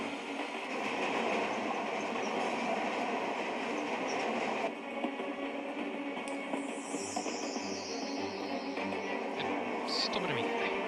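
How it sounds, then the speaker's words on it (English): A train approaches through a tunnel with a steady rumbling roar and a brief high wheel squeal near the end, beneath dramatic background music in a Doctor Who scene. "there's another train coming"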